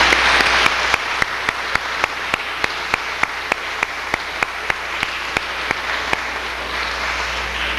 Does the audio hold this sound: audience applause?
yes